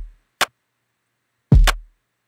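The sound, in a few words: drum track loop loaded into Factorsynth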